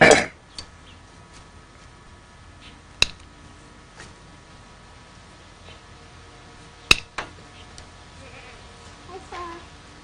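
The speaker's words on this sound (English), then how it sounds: "That goat tried biting my pants." A goat on a family farm bleats a few times amid livestock, with short sharp calls and occasional clinks scattered over a quiet background.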